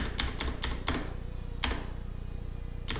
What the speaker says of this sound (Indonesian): Pertama-tama kita akan ketikkan npm init ya.